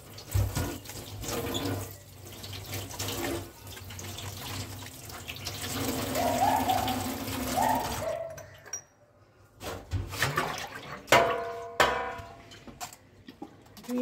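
Whole cabbages washed under a running tap in a sink. Water gushes and splashes steadily for about eight seconds, then comes in short bursts and drips as the heads are turned and handled, close by and with no voices.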